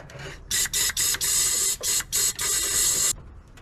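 Compressed air blasts into the cylinders of a 1971 Mustang engine with badly corroded, pitted pistons, coming as a string of short, loud, close hissing bursts followed by one longer blast.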